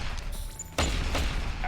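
A PEPS pressure gun fires in Deus Ex: Human Revolution as a single sudden loud blast that cuts through the game's background sound and lingers briefly, with a voice talking nearby.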